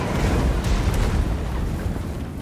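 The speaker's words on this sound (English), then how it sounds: "Just getting the trebuchets into range and starting to open fire" Trebuchets firing in Total War: Warhammer, a heavy, rumbling wash of booming impacts and low thuds sustained throughout, loud and dense with no clear gaps.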